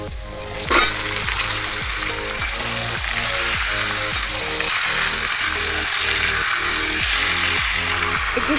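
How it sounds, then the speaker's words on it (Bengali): Chicken sizzling and frying in a hot pan after ginger-garlic paste, a constant loud hiss with a rhythmic scraping stir repeating every half second or so. "এবার আমি চিকেনটা এতে অ্যাড করে দেবো।"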